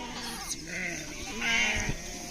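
Sheep bleat in a herd out in the open, several calls overlapping across a couple of seconds, a longer and louder bleat rising near the end over steady background noise.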